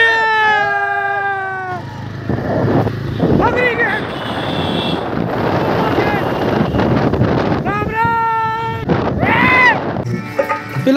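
Steady rushing wind buffeting the microphone while four riders sit on motorbikes heading out during Holi, loud and continuous, with a voice and other talk heard over it at the start and end.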